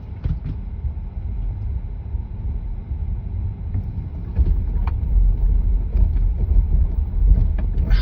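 A car rolls down a bigger snowy hill on Pirelli Scorpion Mud and Snow tires, giving a steady low rumble with faint mechanical clicks. The sound is close and grows slightly louder partway through.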